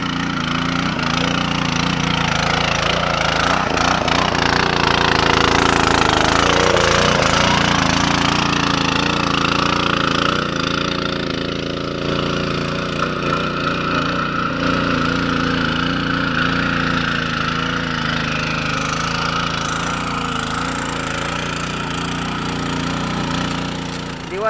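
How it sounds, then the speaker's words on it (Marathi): A farm water pump's engine runs steadily in a Konkan field, a loud continuous mechanical drone with a throbbing, jackhammer-like pulse that holds for the whole stretch and eases slightly toward the end. "आता आम्ही पाण्याचा पंप बंद करूया"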